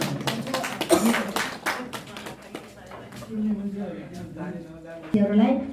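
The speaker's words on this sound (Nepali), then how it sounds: "ताली बजाएर समर्थन गर्नुहुन्छ।" Members of a village assembly, the Hupsekot rural municipality assembly, clap in support of a budget motion. A short burst of scattered applause comes early, followed by people talking.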